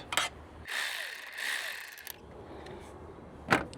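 A ratchet tightens a negative battery terminal nut on a Nissan in a few quick clicking bursts, close and fairly quiet, with a sharper click near the end and no talking.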